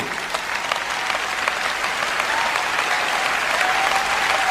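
During a Joyce Meyer sermon, a large congregation applauds. The clapping is a continuous, even wash, with a faint voice audible underneath.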